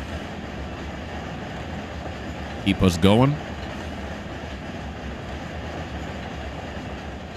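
Simulated freight locomotive with a long string of well cars rumbles steadily through the clip in Run 8 Train Simulator, a low continuous drone with a brief burst of talk in the middle.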